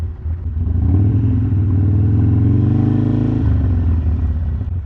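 A Harley-Davidson Sportster motorcycle rumbles as it slows and pulls over near a park, a steady low engine note that drops toward idle partway through.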